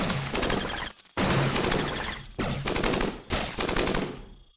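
Automatic gunfire in the video game Cogmind rattles in long sustained bursts, three or four loud rapid volleys separated by brief silent gaps, with no talking over it.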